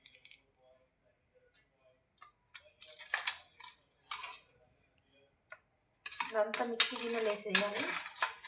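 Thick ghee cream being spooned into a mixer grinder jar, with scattered light clinks and scrapes of a spoon against metal that grow into a busier run of clatter toward the end.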